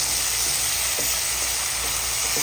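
Tomatoes are sautéed in a pan for ginisang monggo, producing a steady, close hiss of sizzling with a few faint soft knocks and no voices.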